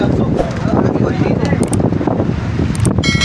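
Strong wind rumbles and buffets the microphone in a steady roar, with people talking underneath.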